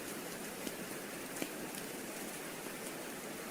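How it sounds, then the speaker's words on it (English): Steady rain in Pokémon Silver, a soft, even hiss of falling drops that stays constant and fairly quiet throughout, with no talking. "it's raining"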